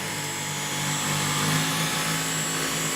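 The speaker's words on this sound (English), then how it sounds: "So now we have the Dyson V11. Let me put it on low." Dyson V11 cordless vacuum cleaner running on its low setting, a steady close whirring motor hum with a faint high whine, constant and without talk.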